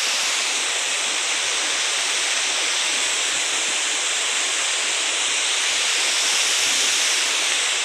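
Mount Sark waterfall on Natuna Island pours into a pool below, a loud, steady, broadband rush of falling water that continues unbroken throughout.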